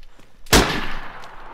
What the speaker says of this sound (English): I'm loading the hunting rifle.